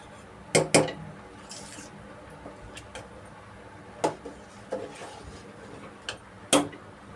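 A spoon stirs dal in a metal pot, making sparse, sharp clinks and scrapes at irregular intervals over a quiet kitchen background.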